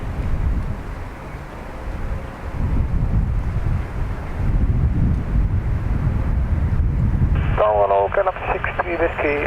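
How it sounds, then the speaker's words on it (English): A Ryanair airliner from Kerry landing at Dublin makes a low, rumbling engine roar mixed with wind buffeting, steady and fairly loud, before radio-like speech cuts in near the end. "Ryanair from Kerry about to land as well."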